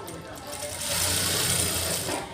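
A sewing machine runs in one short continuous burst while stitching a blouse lining, steady and fairly close, with no clear speech over it.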